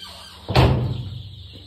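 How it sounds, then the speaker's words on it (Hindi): A chicken coop door opening with one sudden scraping, rattling burst that fades over about a second, loud and close, with a faint squeal before it. "देखा दरवाज़ा खुलते जाए और ये बाहर भाग रही हैं।"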